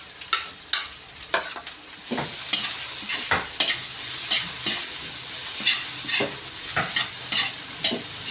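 Ginger and onion stir-fried together in a large wok for a native tinola, with steady sizzling broken by repeated sharp scraping strokes of the spatula, close and fairly loud.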